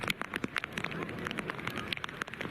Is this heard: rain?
yes